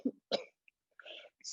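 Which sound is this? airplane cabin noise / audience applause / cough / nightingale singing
cough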